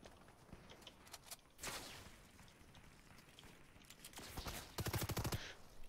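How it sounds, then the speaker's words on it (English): Gunfire in the video game Fortnite: scattered distant shots, then a loud burst and, near the end, a quick rapid-fire volley of closely spaced cracks. "He's shooting at me now."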